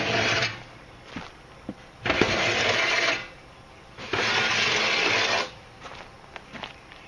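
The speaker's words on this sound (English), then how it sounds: "So I like to obviously take all the grates out." Metal grates being pulled out of a Stumps Baby XL smoker, with a few long scraping slides and short knocks and clanks, close and loud, and no talking.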